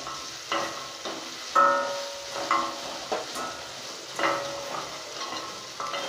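Chillies frying in a pan while being stirred, with close sizzling and intermittent scraping bursts against the pan.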